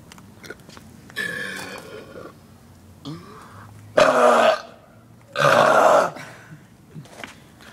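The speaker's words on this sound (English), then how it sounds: "Just belch your life out." A person belching loudly on purpose: two long, deep, rumbling burps stand out clearly, each lasting around half a second to a second, with quieter grunts and breathing before and between them.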